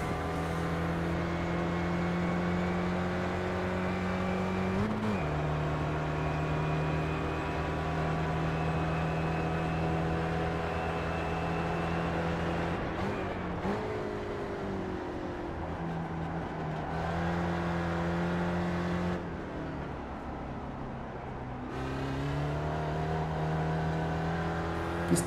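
Spec Racer race car engine in the iRacing simulator at Summit Point, a loud continuous drone that rises and falls through gear shifts and throttle changes, with brief dips when lifting off, no talk.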